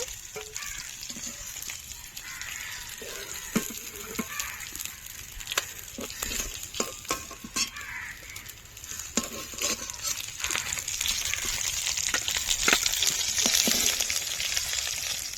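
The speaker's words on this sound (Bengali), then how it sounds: "এ দেখুন লাল লাল করে মাছটা ভেজে নিয়েছি" Bhola fish frying in oil in a village kitchen, a continuous crackling sizzle with frequent sharp pops and spatters that grows a little louder toward the end, no talking.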